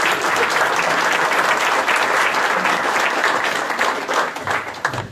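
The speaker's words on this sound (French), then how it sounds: "On applaudit le maire." A crowd applauds the mayor at a town hall inauguration in Auffargis, a dense wash of clapping holding loud for about five seconds before thinning slightly at the end.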